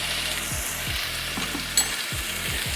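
Heaping teaspoons of garlic fry in a pan for New Mexican calabacitas, a loud, steady close sizzle with the soft scrape of a utensil stirring every half second or so.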